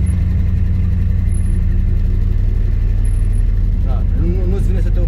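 A Shelby GT500 Eleanor's classic V8 drones with a deep, steady rumble while driving, loud and close, with a voice briefly speaking over it near the end.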